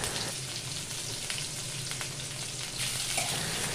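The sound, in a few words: chopped garlic and onion frying in hot oil in a wok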